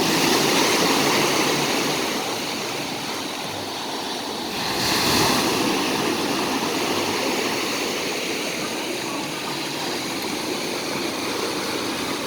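Ocean waves break continuously at a surf beach, Kalim Beach in Phuket, a loud, broad roar of surf swelling and easing, with some wind buffeting the microphone.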